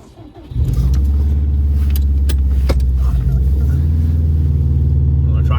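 A car with a blown head gasket is driving, its engine catching and settling into a loud, steady low rumble heard from inside, with a few faint knocks over the drone.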